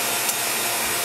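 Air pump evacuating a vacuum chamber, a steady broadband hiss and whir running continuously at moderate level with no talk.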